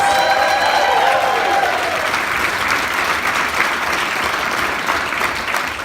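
A big round of applause from an audience at a CUE Kid Boom event for young presenters, dense and steady clapping that begins under a fading tone and holds for several seconds.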